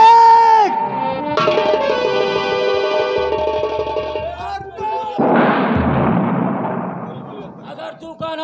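Gunfire sound effect in a Hindi audio drama about the dacoit Durga Singh: a single loud, harsh blast erupts midway over dramatic background music, then its rumble trails off.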